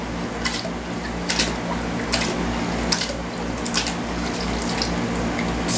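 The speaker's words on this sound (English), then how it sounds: "so really spray the distilled water in those, make sure they're all cleaned out" Distilled water is sprayed to rinse out anodizing parts, a close, steady hiss of liquid with bursts of splashing that rise and fall at intervals.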